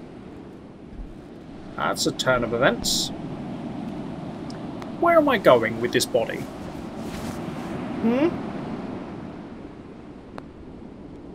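Water lapping and washing steadily around a rowed boat in the video game The Body, a soft continuous wash beneath someone talking intermittently.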